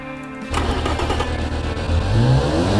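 A custom-built car of roughly 1,000 horsepower in the Automation tycoon game starts up and revs hard, its engine roar swelling loud and close over a steady idle hum, with no talking.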